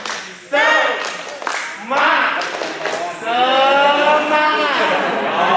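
Students at a school candidate debate join in a rhythmic spirit clap, bursts of group clapping and chanting voices in sharp patterned sets, loud and close, with a leader's voice cueing between rounds.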